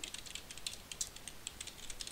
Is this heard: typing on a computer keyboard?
yes